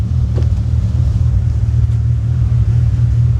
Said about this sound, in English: I can hear the bit of misfire now,